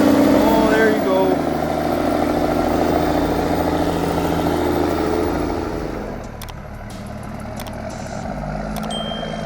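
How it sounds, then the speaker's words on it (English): A Mack truck engine growls loud and close with a deep, steady rumble, dropping somewhat lower toward the end, while people talk over it throughout. "Listen to that engine growl, like a grizzly waking up from a winter nap"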